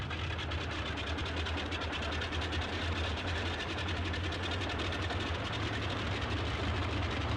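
Boeing 247 piston engine idling at around 1100 RPM in a flight simulator game, a steady, dense rumble with a fast even chugging pulse that holds unchanged throughout, loud and alone.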